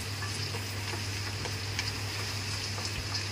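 Chicken sautés in a pan with garam masala, chili powder and cumin-coriander powder, giving a steady, close, unbroken sizzle with faint stirring ticks.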